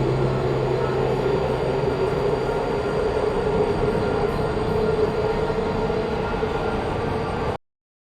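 A lift moving through a test facility in the video game Portal produces a steady mechanical rumble with a slowly rising whine, continuous and loud until it cuts off abruptly near the end.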